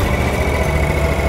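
A Ditch Witch trencher engine runs steadily at close range, a loud continuous low rumble with a constant mechanical drone and vibration throughout.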